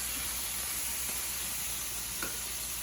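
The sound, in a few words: shrimp sizzling as added to olive oil with sauce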